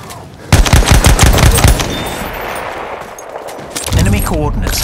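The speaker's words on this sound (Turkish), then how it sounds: "Makinalı tüfek!" Rapid machine gun bursts in Battlefield 1 rush mode, loud close rattling volleys that start sharply, thin into scattered shots, then resume with a spoken voice over the firing.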